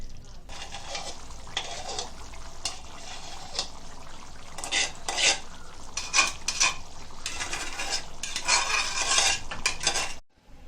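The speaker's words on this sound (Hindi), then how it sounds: "अभी इसमें झींगा डालकर इसको 2 मिनट अच्छे से पकाएंगे" Prawns cooking with drumstick pods in a pot, stirred with a utensil: repeated scraping and clinking against the metal over a wet bubbling background, close and fairly loud, ending abruptly.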